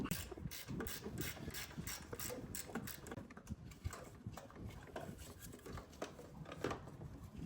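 Ratchet clicking at close range while bolts come off an MK7 Golf GTI front end, busy mechanical rattling and clicks running continuously in quick bursts, fairly quiet, with no talk.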